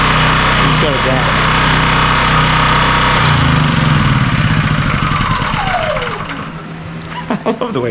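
A Honda EB3000C portable generator engine that had been running rough and surging winds down from a loud steady drone into falling whines and sputters, then stops with a few final knocks; voices are heard alongside.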